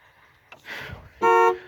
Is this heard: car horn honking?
yes